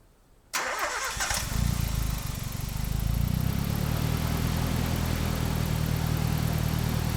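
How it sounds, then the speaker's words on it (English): A Nissan 180SX project car cranks briefly and catches, then settles into a steady, loud idle close by, with no talk over it. "I am just going to quickly start it up just to see if it's all running again"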